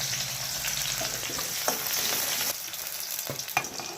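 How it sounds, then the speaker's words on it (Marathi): Finely chopped onion frying with asafoetida and mustard seeds in a hot kadhai: a loud, steady, close sizzle with occasional scraping stirs, and no talking. "त्यामध्ये थोडासा हिंग, थोडीशी मोहरी आणि त्यामध्ये बारीक कापलेला कांदा घालते"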